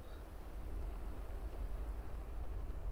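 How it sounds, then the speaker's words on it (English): Soft, steady wind ambience in the DCS World flight simulator, a faint continuous low rush without talk. "You can hear the wind now."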